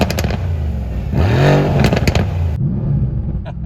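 Mercedes-AMG C63 S Coupe Edition 1 in race mode with valves open: a loud engine rev rises and falls in about one second, set among rough crackles and clattering pops before the sound drops away.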